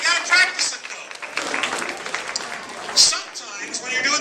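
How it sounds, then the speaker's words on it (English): Children in a magic class at Phoenix Academy applaud together in a busy, sustained burst of clapping mixed with excited voices and chatter. "Give yourselves a big round of applause."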